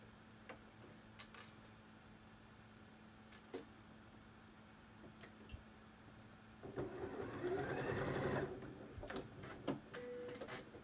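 A sewing machine stitches fabric for a wrap dress, with scattered ticks and clicks before a loud, close burst of continuous whirring stitching lasting about two seconds, followed by a few more clicks.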